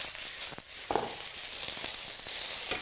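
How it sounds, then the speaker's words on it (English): Prawn wontons sizzle in a hot wok, a steady, fairly quiet frying hiss broken by a few light clicks and crackles. "Keep that sizzle going if you can."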